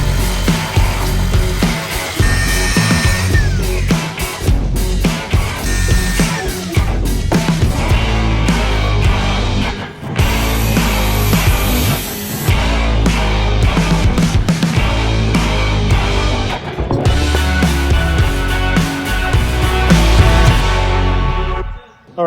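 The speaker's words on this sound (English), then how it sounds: "I use a skill saw, a circular saw, to cut my treads to length" Circular skill saw ripping through 1-inch standard grade plywood for stair treads, a loud, harsh whine with repeated dips and surges as the blade bites, heard up close without talk.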